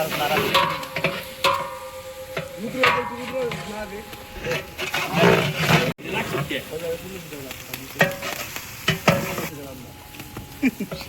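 Ginger and spices fry in hot oil with a continuous crackling sizzle and stirring scrapes, while people talk over the cooking throughout.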